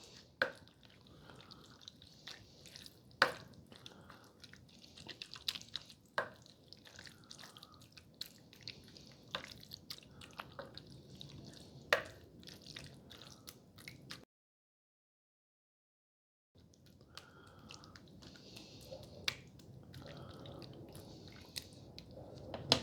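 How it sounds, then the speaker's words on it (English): Stirring taco pasta topped with shredded cheddar in a slow cooker produces soft wet squishing and clicking spoon sounds in an irregular rhythm, close and fairly quiet, with a short silent gap near the end. "Let's just give that a good stir."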